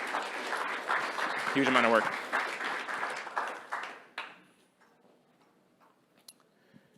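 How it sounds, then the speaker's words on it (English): Conference audience applauding for about four seconds, dense steady clapping that then cuts off, leaving a quiet room with someone speaking faintly. "quick round of applause for everyone working on this"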